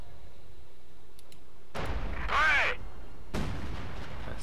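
Artillery fire in the WWII strategy game Company of Heroes 2 at Stalingrad: a heavy blast with a long rumbling tail, then a second loud impact, over a low background hum.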